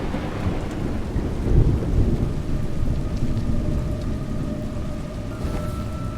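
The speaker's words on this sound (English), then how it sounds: "Seem surprised that rain comes from the heavens" Steady rainfall in A Juggler's Tale video game, with a deep thunder rumble rolling through early on over continuous pattering rain that carries on alone.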